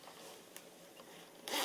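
A short, quick zipper pull on a suedette garment near the end, a bright rasping burst after quiet rustling of fabric.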